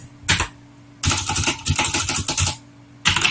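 Computer keyboard typing in short bursts of rapid clicks separated by brief pauses, close and clear with no talking.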